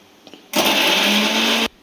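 A kitchen mixer grinder whirs loudly at close range in one continuous burst of a little over a second, starting and stopping abruptly, with quiet surroundings before and after.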